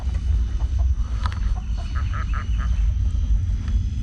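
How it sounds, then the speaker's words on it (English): Ducks quack in short, rough bursts at a middle distance outdoors. The calls come in clusters over a loud, constant low wind rumble. "Those ducks will not shut up."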